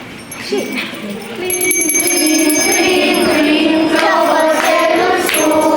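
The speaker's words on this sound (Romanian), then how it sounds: "trebuie să sune clopoțelul." A small hand bell rings continuously at a children's school celebration in Glasgow, bright and close, with voices and crowd murmur underneath.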